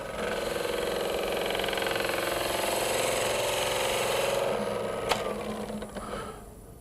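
A wood lathe spins a natural edge end grain bowl while a tool's skew edge cuts, giving a steady, loud whirring hum with a gritty cutting texture that fades near the end, broken by one sharp tap.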